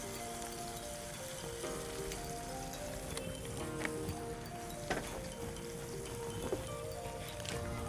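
Chicken frying in a pan for chicken macaroni sizzles steadily after water and macaroni masala go in, a close, even crackle with a few louder spits and faint clicks throughout.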